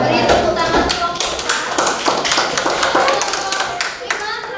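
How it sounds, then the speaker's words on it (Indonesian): Steady, dense clapping from a classroom audience greeting a presentation group during a culinary teaching assessment, continuous and close throughout with a few voices underneath. "Beri tepuk tangan kelompok"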